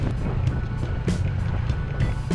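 A steady low hum of motorcycle engines idles in a long queue at a red light in Wangon, a continuous close rumble of traffic with no talking.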